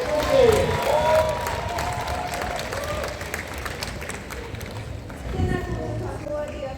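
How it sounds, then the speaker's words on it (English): A crowd at an outdoor rally for Gaza in Christchurch claps and cheers, a broad roar of applause with voices mixed in that rises and falls over several seconds. "A big round of applause."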